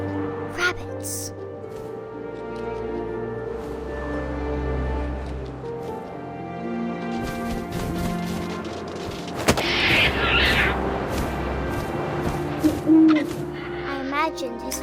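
An owl hoots in the video game What Remains of Edith Finch, with low booms and wind in the background while a narrator speaks over the scene.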